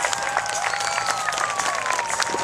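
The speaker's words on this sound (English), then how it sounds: "A big round of applause for Michael Wiscus." Steady applause from an airshow crowd, dense rapid clapping mixed with a tonal hum in the background, continuous at moderate loudness.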